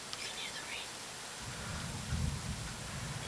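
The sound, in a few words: rain falling during a thunderstorm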